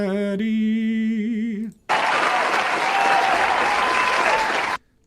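Canned applause bursts in abruptly after a brief tonal voice-like sound, holding a loud, dense clapping wash for about three seconds before cutting off sharply.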